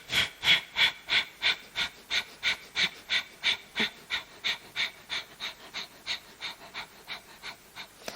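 Fast, rhythmic breathwork during a yoga practice: about twenty sharp, evenly spaced breaths follow one another close to the mic, loud at first and gradually softening, with no talking.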